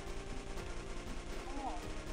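Rapid bursts of gunfire in the video game Mission 1985, rattling continuously with a person talking over it.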